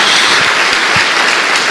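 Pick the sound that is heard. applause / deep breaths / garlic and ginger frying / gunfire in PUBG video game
applause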